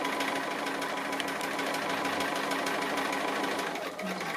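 A sewing machine stitching a blue tree appliqué onto a quilt, running as a fast, even mechanical whir of stitches close by, continuing steadily before it briefly slows near the end.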